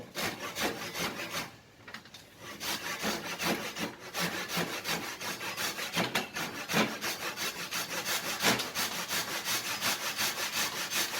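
A Japanese-style pull saw rasps through wood in steady back-and-forth strokes, close and continuous, with one brief pause near the start.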